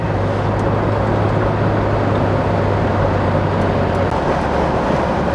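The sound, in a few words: BMW E36 car driving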